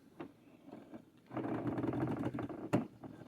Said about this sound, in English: so we're going to sew this down